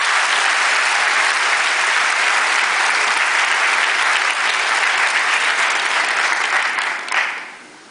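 Audience applause at the Earl Haig 2009 graduation ceremony, a dense, steady roar of many clapping hands that holds for about seven seconds before tapering off quickly near the end.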